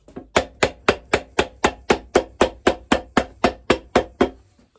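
A hammer taps a shoe midsole in a steady, even rhythm, about fifteen sharp close knocks, then stops.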